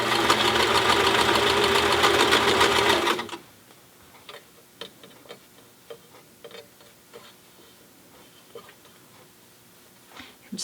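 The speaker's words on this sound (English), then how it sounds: "I'm top stitching about between 1/8 of an inch and 1/4 of an inch from the edge of the finished" A sewing machine runs steadily and loudly for about three seconds while top stitching a cloth protective face mask, then stops, leaving faint scattered clicks and handling noises.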